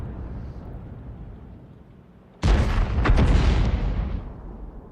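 A heavy artillery shot booms suddenly in a World of Tanks battle, its loud blast and rumbling burst rolling on for a couple of seconds after a quieter stretch of background noise.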